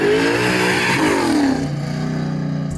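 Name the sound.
'69 Chevelle with 632 ci big block Chevy engine revving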